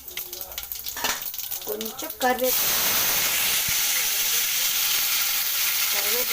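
Mustard and fenugreek seeds hit hot oil in a pan on the stove. A voice speaks briefly, then a sudden loud, continuous sizzle takes over and carries on steadily to the end.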